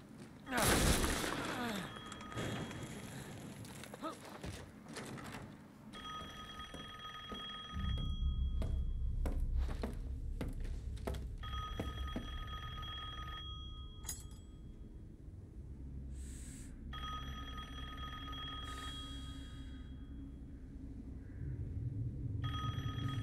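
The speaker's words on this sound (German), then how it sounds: "da klingelt schon mal der Telefon" Telephone bell ringing inside a castle in the video game Resident Evil Village, repeated electric rings in bursts after an opening crash, moderately loud with brief breaks between rings.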